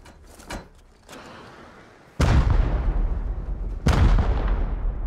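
Gunfire in the survival video game Rust: two heavy, booming shots about two seconds apart, each with a long rumbling tail, preceded by fainter distant pops and background noise.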